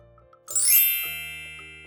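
A magic wand chime in a children's colours-and-counting cartoon, a single bright sparkling ding that rings out clearly and fades slowly over a second or so, after a few soft plinks.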